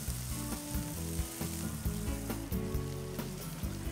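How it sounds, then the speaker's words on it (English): Shrimp and shellfish sizzling on a grill grate, a dense continuous crackle and hiss with scattered sharp pops, loud and close, no talk. "Now, arrange the shrimp on the grill grate."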